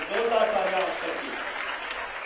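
An audience at a welcome ceremony at a chief minister's residence breaks into applause, a brief dense patter of clapping with a voice speaking over its loud opening before it settles to a steady wash.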